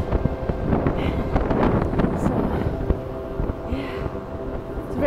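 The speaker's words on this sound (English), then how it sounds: "Very windy out, as you can tell." Strong wind gusts on a beach at Galveston Island buffet the microphone continuously, a rough, roaring blustery noise with no talking.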